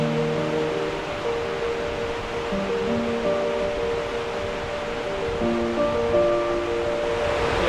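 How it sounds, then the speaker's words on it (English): A roaring waterfall in Iceland's Golden Circle, heard as a steady, dense wash of rushing water close by, continuous and loud throughout with no break, while faint tonal sounds drift underneath. "the sound of the water just got louder and louder and louder, and then I could peer over the edge and it's just roaring"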